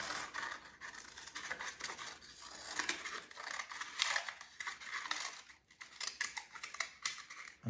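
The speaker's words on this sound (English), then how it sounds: "We'll go ahead and cut the cone." Scissors snip through a paper cone for a craft castle, giving quiet, close, irregular crisp cuts and paper rustles over several seconds, with no talk.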